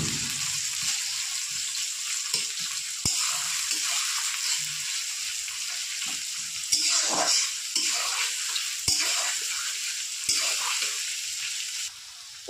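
Chopped onions sizzle in hot oil in a pan for amudi fish jhal curry. The frying is steady and close, with occasional stirring clicks and no talking.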